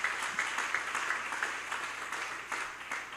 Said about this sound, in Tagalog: Mahina yung palakpak niyo